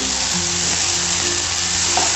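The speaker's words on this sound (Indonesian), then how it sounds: "Tumis kembali sampai bumbunya harum ya teman-teman." Spices with ginger and galangal sautéing in a hot pan, giving a steady, close sizzle and frying hiss throughout with a faint stirring scrape, no voices.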